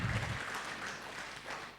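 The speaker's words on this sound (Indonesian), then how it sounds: "Yang setuju berikan tepuk tangan meriah buat Tuhan kita" A church congregation gives a short round of applause during a worship service, with the clapping soft and somewhat distant, fading quickly.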